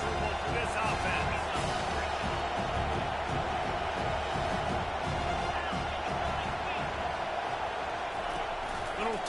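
Stadium crowd at a football game, a dense, constant roar of many voices filling the whole stretch, with commentary voices talking over it.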